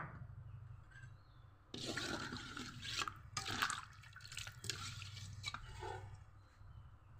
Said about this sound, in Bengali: খুব ভালো করে মশলার সাথে লাউ কষিয়ে নিয়েছি, এখন জল দিয়ে দিব।